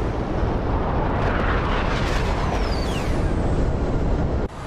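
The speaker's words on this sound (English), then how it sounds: "They are just exploding all around us." Missiles blast nearby in a video game air-defense simulation of NASAMS over Kyiv, heard as a loud, continuous roaring rumble with a descending whistle partway through, cutting off abruptly near the end.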